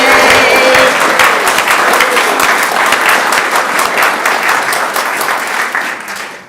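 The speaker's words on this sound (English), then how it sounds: "Can we have a round of applause to our new members?" A crowd gives a round of applause for new members at a gathering, loud dense clapping that continues for several seconds before tapering off near the end.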